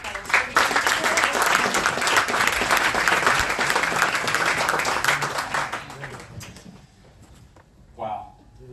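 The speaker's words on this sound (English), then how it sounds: "we would like to give all the students here tonight a really big round of applause." An audience at an annual high school distinguished achievers awards ceremony in Sydney gives a big round of applause, loud sustained clapping for about six seconds before it fades and a voice speaks briefly near the end.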